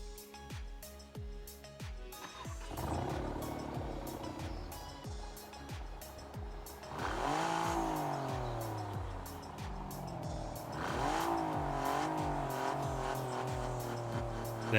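Maserati car engine in TDU Solar Crown, revving repeatedly with rising and falling pitch through gear changes, loud and continuous up close.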